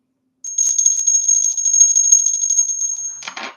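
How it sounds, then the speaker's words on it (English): A small metal hand bell is shaken close by, giving a rapid, continuous bright jingle from the clapper for about three seconds before ending in a short rattling clatter; no one speaks. "All these bells have different sounds to them"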